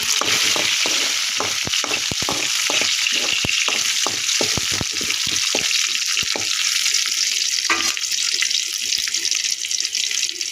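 Hot tempering poured into a vegetable kootu kuzhambu, a loud bubbling sizzle with rapid crackling pops that slowly thin out, close and steady, no talk.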